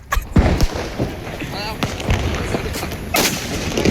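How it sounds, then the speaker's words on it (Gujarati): Diwali firecrackers burst outdoors, with a few loud, sharp bangs and thumps amid crackling and ongoing street noise. "અને હજી બોમ્બ તો અહીંયા ફૂટે જ છે મિત્રો."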